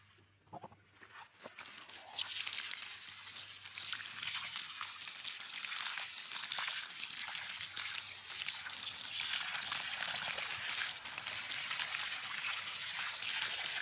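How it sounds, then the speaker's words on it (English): Water streams from a hose nozzle onto a vegetable growing container, a steady broadband hiss and splatter that starts after a quiet second and runs continuously at moderate level. "We got water running out of the bottom."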